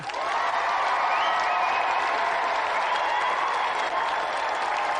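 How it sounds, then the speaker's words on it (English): Sustained, dense applause from a studio audience at a game show for the night's competitor, a steady wash of many clapping hands at even loudness throughout, with no voices standing out. "Another round of applause for tonight's competitor, Tim Cant"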